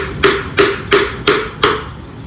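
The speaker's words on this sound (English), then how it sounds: "there's no way I can hold the hammer" Five evenly spaced hammer strikes ring out close by during assembly of a 383 small block Chevy engine for a 1964 Chevy II Nova, each a sharp metallic knock with a brief ringing tail.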